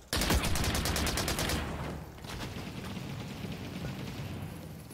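A grenade blast in The Cycle: Frontier lands as a loud, dense burst of rapid crackling impacts, then settles into a rumbling, noisy tail; no one speaks.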